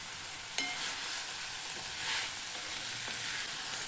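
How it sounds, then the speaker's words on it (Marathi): Onion and tomato chutney sautéing in a pan with salt and red chili powder, a steady soft sizzle with a couple of faint spoon scrapes, moderately close and without speech. "हे छान परतून घ्यायचं।"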